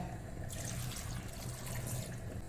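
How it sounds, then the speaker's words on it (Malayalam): Water poured into a pot of thinly chopped raw plantain, a steady splashing, running pour that lasts the whole moment, close and fairly loud with no talking. "ഇനി ഇതിൽ കുറച്ച് വെള്ളം ഒഴിക്കട്ടെ."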